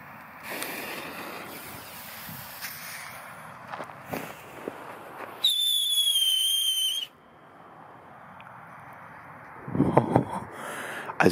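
Jorge Vulkan firecrackers and fireworks crackle and pop outdoors, with a shrill whistling burst in the middle and a cluster of sharp bangs near the end.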